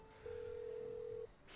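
Telephone being dialed: a single steady electronic tone lasting about a second, clear and alone over a faint background hum.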